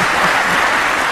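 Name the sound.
crowd cheering and applauding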